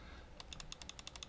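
Logitech M720 Triathlon mouse buttons clicking, about nine quick, crisp clicks in a rapid, steady rhythm, close and fairly quiet against a faint background hiss.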